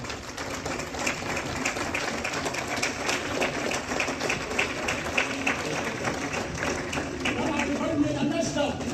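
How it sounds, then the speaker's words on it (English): A crowd gives John Dramani Mahama a standing ovation at a formal gathering, producing a steady, dense wash of clapping that stays fairly loud throughout, with voices mixed in. "With a standing ovation and a round of applause,"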